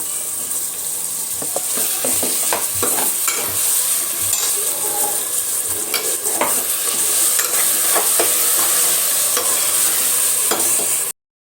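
Tomatoes dropped into a pan of hot oil with garlic, green chili, ginger and coriander paste for a pressure-cooker chicken biryani: steady loud sizzling with a spatula scraping and tapping throughout, close up, then an abrupt stop.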